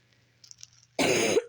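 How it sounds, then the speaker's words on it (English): A burst of harsh coughing erupts loudly and close after a near-silent pause, lasting about half a second with a throat-clearing quality. "I'm not editing out my coughing."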